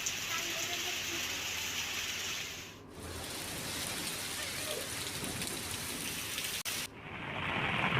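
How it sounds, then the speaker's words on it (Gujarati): Heavy rain pours on a village in Amreli, Gujarat, driven by strong wind. A dense, loud, steady hiss of downpour fills the clip, broken by a couple of abrupt cuts. "ગ્રામ્ય વિસ્તારમાં માવઠું વરસ્યું"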